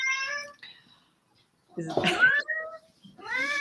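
A cat meows several times, drawn-out tonal cries at the start and end with a short burst of talk between them.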